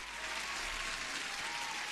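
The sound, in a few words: applause played for the stream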